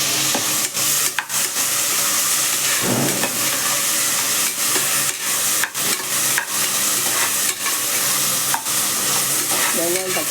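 Onion and tomato sautéing in oil in a pan, a loud continuous sizzle with repeated scraping stirs and clacks of a utensil throughout, no voices.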